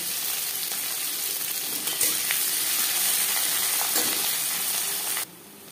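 Chopped onions sizzle in hot mutton fat with whole spices and bay leaf, a steady, close hiss of frying with a few faint stirring scrapes, cutting off abruptly near the end.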